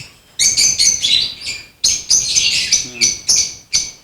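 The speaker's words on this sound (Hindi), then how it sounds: "लव बर्ड है, इसके 2 बच्चे निकले हैं।" A lovebird in a breeding box with two newly hatched chicks gives loud, close bursts of shrill chirping calls, repeated in quick clusters with brief pauses between them.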